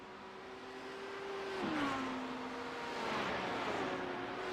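GT3 race cars lapping the Long Beach street circuit in iRacing, a sustained engine drone whose pitch drops with a downshift, then swells as the car accelerates, with other cars faintly audible in the mix.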